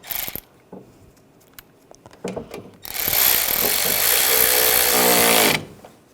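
Bolt being tightened while replacing the coolant reservoir on a 2013-2016 Dodge Dart 2.4L L4: a few scattered tool clicks and clanks, then a loud continuous whirring power-tool burst of about three seconds that stops abruptly.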